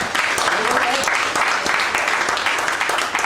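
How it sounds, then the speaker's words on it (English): Guests clapping at a 90th birthday party, a steady round of applause lasting a few seconds, moderately loud, with some voices mixed in under the clapping. "Give him a round of applause for that."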